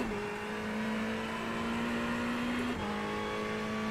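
Ferrari race car engine in the iRacing sim, a steady high whine holding pitch, then a quick drop at a gear shift before settling again, moderately loud with no talk.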